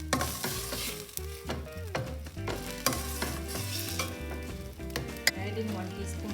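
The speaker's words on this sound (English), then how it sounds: "Let the tomatoes cook in there." Tomatoes cook down in a pan over a lowered flame for a South Indian chutney, giving a continuous soft sizzle with occasional stirring knocks, set beneath background music.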